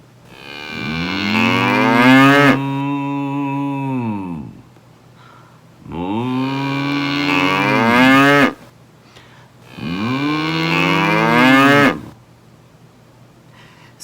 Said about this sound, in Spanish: El primer sonido fue una vaca.